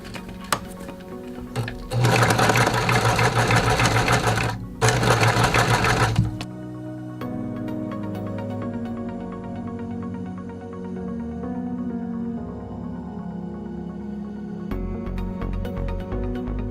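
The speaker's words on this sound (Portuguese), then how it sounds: "eu vou puxando bem devagarinho a máquina" A sewing machine stitches slowly and steadily, loud and close, with a brief pause midway, while fabric for rabbit ears, paws and tail is fed through, then quieter mechanical clicks and handling follow.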